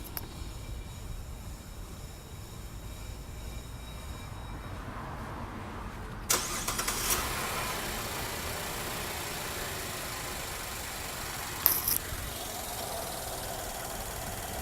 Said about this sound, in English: Then we'll go ahead and start the engine